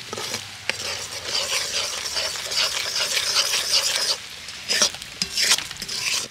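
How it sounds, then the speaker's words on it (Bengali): Sugar caramelizing in a pan as it is stirred: continuous scraping and sizzling, close and fairly quiet, with a few sharper clinks of the utensil against the pan. "তো এবার আমি নাড়তে থাকবো যতক্ষণ না পর্যন্ত সুন্দর একটা লালচে রং আসছে পুরো চিনির রসটার মধ্যে"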